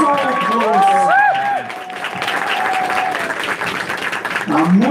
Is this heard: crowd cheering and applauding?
yes